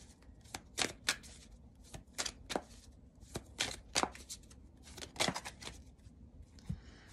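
Osho tarot cards being shuffled by hand, soft close riffles and papery slaps in irregular bursts, quiet and alone with no talking.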